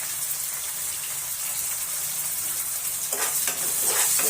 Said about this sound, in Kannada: ಈಗ ಸ್ವಲ್ಪ ಟೊಮೆಟೊ ಹಾಕಾಕತ್ತನ